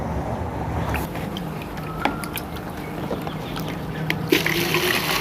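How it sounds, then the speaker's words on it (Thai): Water pouring and trickling into a container to mix with fertilizer for growing salad greens in bottles, a steady wet splashing that runs throughout at moderate level with a few small knocks and clunks. "เดี๋ยวเราก็จะมาทำการเติมน้ำแล้วก็ผสมปุ๋ยนะคะ"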